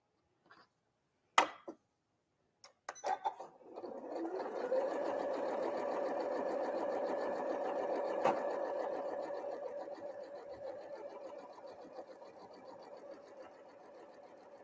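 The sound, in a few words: sewing machine stitching quilt block pieces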